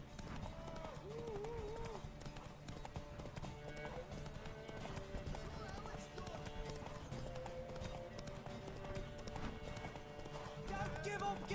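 Horse hooves gallop steadily through a race in The Witcher 3, rapid rhythmic clip-clop continuing quietly beneath game music and shouting voices.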